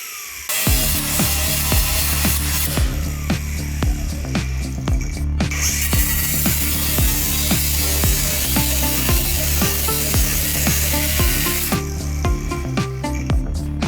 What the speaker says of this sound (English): it is time to start cutting. And cutting. And keep cutting until there is no rust left